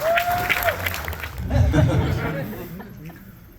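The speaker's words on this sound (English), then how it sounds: "Round of applause for that" Brief applause and light laughter from an audience at a convention panel, starting after a tonal note and swelling midway before fading, with voices murmuring over it.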